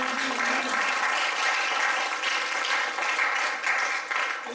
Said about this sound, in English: let's just give the Lord a hand clap of praise for these great men